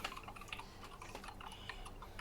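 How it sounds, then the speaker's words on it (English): Rapid, furious typing on a computer keyboard, a dense run of light clicks and taps with no one speaking. "Why are you typing furiously?"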